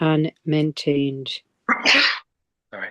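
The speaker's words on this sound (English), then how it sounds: "sneezing away. Bless you." A person speaks briefly, then a single sharp, loud sneeze bursts out close by, followed by a short pause and a bit more speech.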